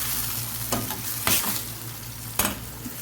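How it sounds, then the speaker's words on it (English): Food being stirred in a hot pot during home cooking, three distinct scraping strokes spaced about a second apart over a steady low sizzle, close by with no talking. "Keep stirring, keep stirring."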